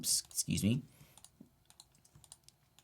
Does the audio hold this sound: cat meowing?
no